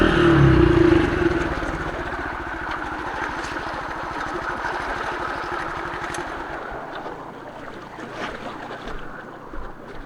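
A motorcycle engine putters close by, louder and throbbing at first, then settling into a softer, uneven idle with some clatter.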